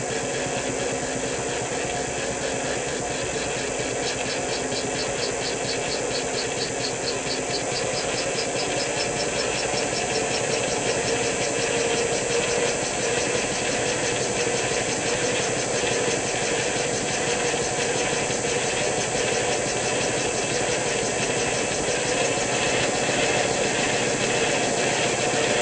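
Boat motor running steadily at over 500 RPM, a dense, continuous mechanical whine and hum that stays loud and unchanging throughout, with no voices.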